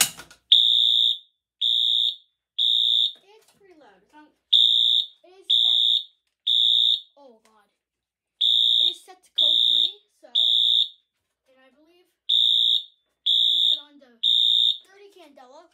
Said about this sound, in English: So we're gonna occasionally just pull this alarm occasionally.